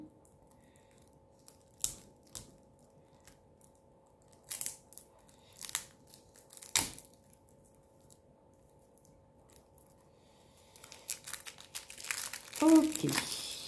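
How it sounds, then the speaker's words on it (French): Plastic blister wrap being peeled off a Golden Art Nouveau tarot deck, close crinkling and crackling in scattered bursts that grow busier toward the end, with a low steady hum underneath. "si j'arrive à enlever ce blister"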